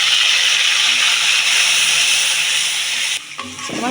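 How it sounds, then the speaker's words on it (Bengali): Spices poured into hot oil with browned onions and cumin, giving a loud, steady, close hiss of sizzling that drops off sharply near the end, followed by a few light clatters. "মশলাগুলো ঢেলে দিচ্ছি।"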